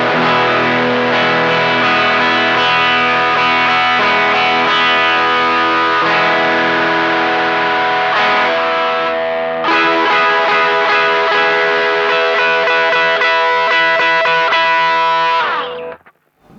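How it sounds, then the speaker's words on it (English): Heavily distorted electric guitar through a Guyatone RAT-style distortion pedal with an LM308 chip, clean signal blended in, rings out with sustained chords, loud and continuous, shifting once midway before cutting off at the end. "you could definitely hear that clean signal added into the distortion"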